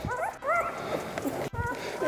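A litter of plump newborn puppies whimpering and yipping in high, wavering cries, several overlapping close by while a person talks over them.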